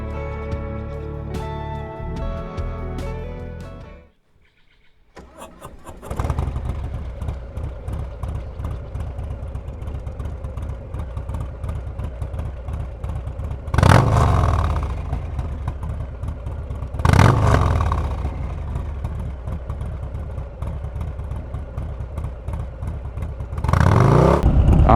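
A Harley-Davidson Low Rider S and a Kawasaki Bobber motorcycle start up after a brief pause, then ride with a steady loud engine drone and several strong revving surges as they accelerate, close and without talk.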